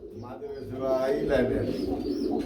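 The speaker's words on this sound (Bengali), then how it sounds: "আমরা এখানে দেখতে পাচ্ছি বড় ভাই খুব সুন্দর একজন রেসার কবুতর" A racing pigeon of Belgian line cooing in a loft, soft low coos mixed with nearby birds while someone talks over them.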